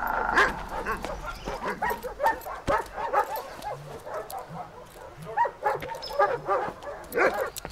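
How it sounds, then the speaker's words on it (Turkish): German shepherd-type dog in a dubbed World War II film, barking and yipping in quick uneven bursts with some whimpering, mixed with dubbed Turkish dialogue and ambient scene noise. "Alman köpeği."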